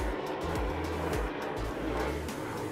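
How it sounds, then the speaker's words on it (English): An airplane passes overhead outdoors as a steady, broad roar with a low droning hum that swells slightly and fades, audible throughout at moderate distance. "there's a plane"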